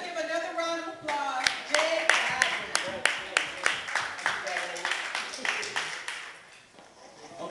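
Audience at a live talent show in Buffalo claps in a round of applause, distinct handclaps ringing out over several seconds before fading, with a voice carrying over the start.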